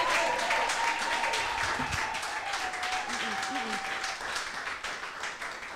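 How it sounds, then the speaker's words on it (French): Church congregation clapping for the King of Kings during a bilingual German and French worship service, steady dense applause filling the whole stretch with a sustained tone and some voices underneath. "Möchte ich, dass wir für den König der Könige klatschen."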